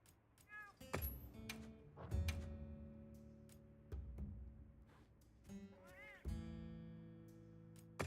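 Cartoon cat chef in a Monster Hunter game meowing several times, short high mewing calls spaced over a few seconds, mixed with clattering cooking sounds and light chimes.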